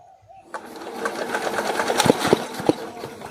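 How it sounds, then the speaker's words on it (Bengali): A small China-made CD 170 4 hp engine, running without its silencer, is cranked but fails to start: a rapid, loud mechanical clatter that rises in uneven bursts, with faint voices in the background. "ইঞ্জিনের যে নজলের যে আওয়াজ সেটি কিন্তু হচ্ছে, তবু ইঞ্জিনটি স্টার্ট নিচ্ছে না"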